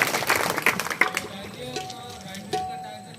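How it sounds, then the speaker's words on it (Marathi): A bhajan performance audience bursts into a short round of clapping that starts dense and loud, then thins and fades within about two seconds, leaving a quieter room. "एकदा जोरात सगळ्यांनी टाळी वाजवा"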